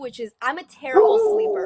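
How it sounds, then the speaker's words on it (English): Dog barking and whining close by, a few short yips followed by a drawn-out whimper, heard under and after someone speaking. "I apologize for the dog barking right now."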